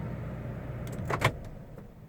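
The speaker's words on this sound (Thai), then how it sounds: "รถปลดล็อกให้นะครับ" A 2016 Mitsubishi Triton's central door locks unlock automatically after the engine is switched off, a couple of quick mechanical clunks over a low idle-like hum, close and brief.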